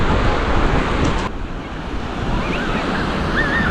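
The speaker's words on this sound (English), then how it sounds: "Small waves here." Small ocean waves break on a shore at a bay in Rabat, Morocco, a continuous close wash of surf with wind noise buffeting the microphone, and no talk.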